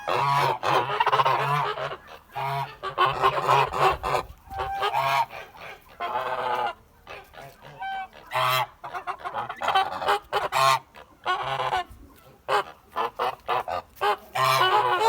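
Many geese honking and cackling together close by, loud overlapping calls with brief gaps throughout.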